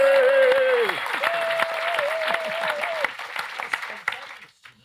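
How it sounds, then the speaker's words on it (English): Studio audience at a live literary discussion about George Orwell's The Lion and the Unicorn claps in a loud, dense round of applause, with whoops and cheering voices over it early on. It fades out near the end. "Round of applause"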